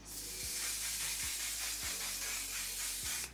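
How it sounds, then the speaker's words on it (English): A continuous airy, misty hiss of setting spray on a face, steady and close for over three seconds with a faint low hum underneath and no speech. "Final step to make it last, one size setting spray"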